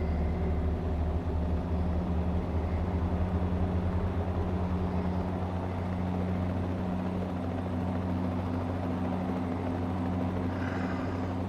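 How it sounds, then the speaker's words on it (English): A police helicopter flies overhead in American Truck Simulator, heard from inside a truck cab with the windows up as a steady, continuous rotor and engine drone that holds throughout without talk. "Police chopper up in the air, I can hear it above me."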